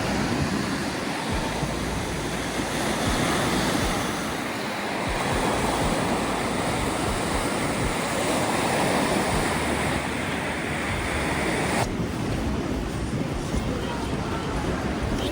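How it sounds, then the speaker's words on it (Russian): Sea waves break continuously on the shore at Sochi, a broad steady wash of surf with wind buffeting the microphone, fairly loud and close, with no one speaking. "Пойдем шум моря заслушаем."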